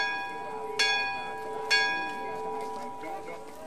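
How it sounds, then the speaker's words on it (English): Pilgrims strike a large bell twice, each toll ringing out loud and clear before its long tone slowly fades, while someone narrates over it. "they each toll the bell once for every ascent they've made"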